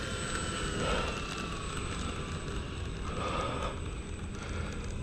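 An FMS F7F Tigercat model airplane with takeoff flaps set roars steadily as it takes off from runway 36, a continuous electric motor and propeller drone with a constant high whine above it.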